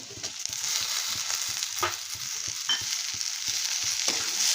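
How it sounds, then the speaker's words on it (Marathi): Onion, garlic, ginger and tomato roast in a pan for kat vada masala, a continuous close sizzle broken by regular soft scraping strokes of stirring. "सगळं असं भाजून घ्यायचं"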